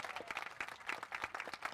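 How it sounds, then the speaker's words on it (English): An outdoor audience at a grand opening ribbon-cutting ceremony applauds a mariachi group, steady dense clapping from many people, quite faint and distant, with no talk over it. "Join me in giving the mariachi group a round of applause."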